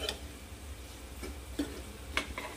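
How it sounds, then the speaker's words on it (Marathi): Potato sabzi seasoned with Maggi masala is stirred in a pan, a spoon scraping and tapping the metal in a few soft, scattered clicks over a faint low sizzle. "आता याला छान असं मिक्स करून घ्यायचं।"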